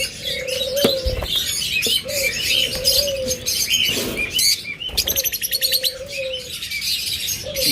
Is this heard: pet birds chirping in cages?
yes